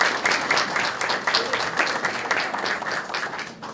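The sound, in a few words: audience applause for the artist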